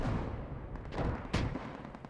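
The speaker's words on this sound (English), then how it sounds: "we see artillery coming in" Artillery fire in the WWII game Post Scriptum during a forest trench battle, distant rumbling booms and scattered shots over a continuous noisy battlefield din.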